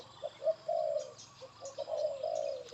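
Soft, rounded cooing of doves, repeated low calls in two bursts, moderately close with faint outdoor background.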